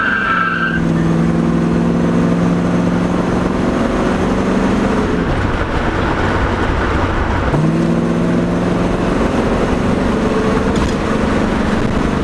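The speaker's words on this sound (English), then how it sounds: "See if I can't just stop and chirp the tires for you guys" Classic Pontiac Trans Am engine revving loud and close, with a sharp tire chirp early on, then two long accelerating pulls whose pitch climbs steadily before dropping off between them.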